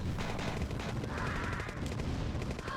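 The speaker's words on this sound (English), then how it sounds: "That APC is going to sit there and shoot away at our refinery." An APC firing on a refinery in the classic real-time strategy game Command & Conquer, a loud continuous rattle of rapid gunfire filling the whole stretch.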